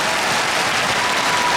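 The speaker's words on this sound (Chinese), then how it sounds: "给自己一个掌声" A concert audience at Taipei Arena claps together in a dense, steady burst of applause, filling the space evenly for a moment with no voices over it.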